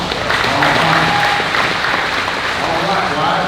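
Crowd applause at the state fair sale of champions livestock auction, a dense, steady clapping from many hands with a voice talking over it.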